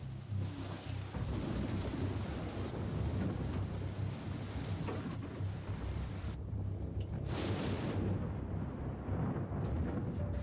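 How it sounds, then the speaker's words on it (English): Heavy nearby thunder from lightning strikes in a storm, a continuous deep rumble with loud cracking bursts over steady rain, no talk. "Lightning all over us here."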